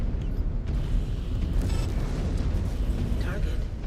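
A King Crab mech is destroyed in the video game MechWarrior, with a loud, dense explosive rumble running throughout, brief bursts and pops on top, and game noise blended in.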